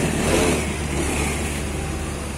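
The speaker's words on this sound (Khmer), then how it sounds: "បាទសំឡេងម៉ាស៊ីនស្ងាត់ល្អណាស់" A Honda Deo 110cc scooter engine runs steadily after starting, a smooth, quiet idle hum held at an even level throughout, close to the listener with no talk over it.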